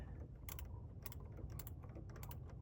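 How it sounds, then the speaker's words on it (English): T25 Torx screws are being backed out of a Ram 1500 throttle body, a faint series of small clicking and ratcheting ticks in uneven bursts over a low background hum. "so I'm just gonna unscrew it."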